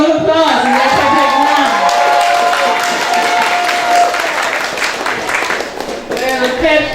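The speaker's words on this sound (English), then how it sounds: "Give them a round of applause" Audience applause and cheering at a Christian preparatory school graduation for the children, a dense, steady wash of clapping from a crowd with whoops and voices mixed in, loud throughout and easing slightly near the end.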